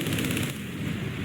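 Aircraft guns firing during a head-on pass in War Thunder, a P-38L-5-LO fighter, heard as a loud continuous rapid burst of gunfire filling the whole moment, with no speech.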